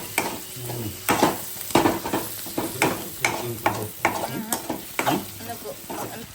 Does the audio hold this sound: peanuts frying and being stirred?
yes